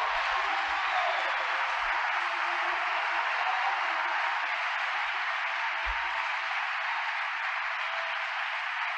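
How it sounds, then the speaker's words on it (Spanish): A church congregation applauds during a Spanish-language sermon, a steady, dense wash of clapping that holds evenly for the whole stretch without a break. "Un aplauso al Señor."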